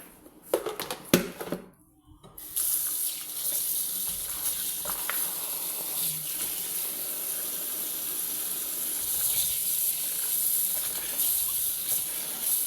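Fresh vegetables are rinsed under a running tap, a steady close hiss of flowing water after a few early knocks and handling sounds.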